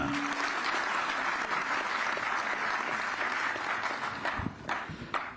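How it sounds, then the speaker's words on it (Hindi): Enthusiastic audience applause at a government event welcoming wrestler Bajrang Punia, a sustained wash of many clapping hands with a few sharper claps near the end. "मैं आपकी जोरदार तालियों के साथ बुलाना चाहता हूं बजरंग पूनिया"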